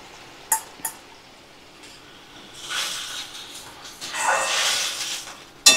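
Boiled mung dal being stirred in a cooking pan, a couple of sharp utensil knocks on the pan followed by soft, wet scraping and swishing that swells and fades, close up and without talk.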